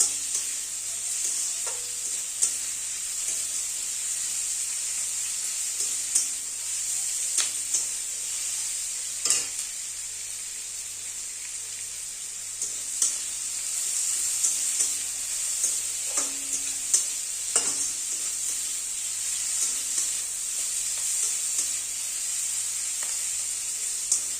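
Chopped onion frying in a pan for ghugni: continuous close sizzling with irregular spatula stirs and scrapes over about twenty seconds.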